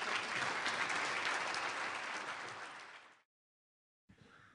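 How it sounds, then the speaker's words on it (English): An audience gives a round of applause for presenter Jesse Noyes after a marketing talk: dense, steady clapping that gradually fades and stops, followed by a short silence and a faint burst of room noise. "round of applause for Jesse"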